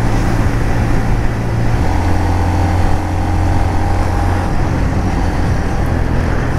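Heavy tipper lorries rumbling past on a road beside an industrial park, a loud continuous engine drone with low throbbing tones shifting as vehicles pass close by, no talk.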